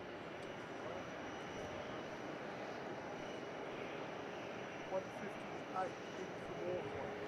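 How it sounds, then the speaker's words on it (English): Boeing 737 airliner inbound to Melbourne Airport, a steady distant engine roar filling the air at low level, constant throughout with no talk. "737 inbound here."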